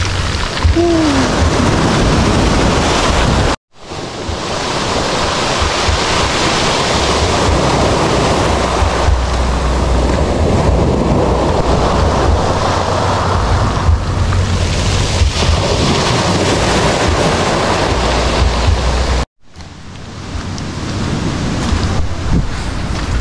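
Strong ocean waves surge and crash continuously at a shore in Infanta, Quezon, loud and close with heavy wind buffeting the microphone, broken by two brief dropouts, no one speaking.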